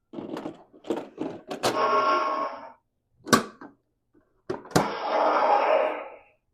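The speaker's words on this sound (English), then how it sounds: "now it has docking sounds" Hasbro Legacy Collection Millennium Falcon toy playing its electronic docking sound effect: a short burst of clicks, then loud mechanical whooshes and thunks, with pauses between, up close and with no talking.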